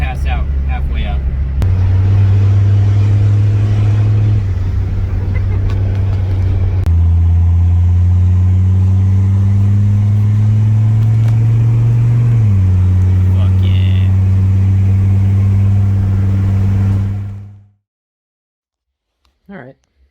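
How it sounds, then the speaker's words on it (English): Turbocharged engine of a Mercedes W123 Coupe pulling hard under acceleration, a loud steady drone that steps up in pitch through gear changes, then cuts off abruptly near the end, with people talking over it. "The turbo actually sounds pretty cool."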